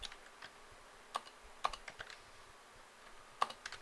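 Computer keyboard keys tapped close up during coding, a few sparse sharp clicks including a Ctrl+period shortcut and Enter, quiet and without talk.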